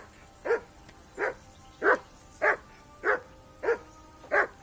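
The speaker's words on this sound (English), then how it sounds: "That barking was a pain in the ass." Dog barking in the medieval video game Kingdom Come: Deliverance II, seven evenly spaced single barks over a faint background, fairly close and clear, with no talking.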